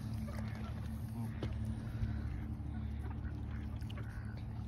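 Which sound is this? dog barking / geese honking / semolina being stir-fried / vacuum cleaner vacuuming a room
geese honking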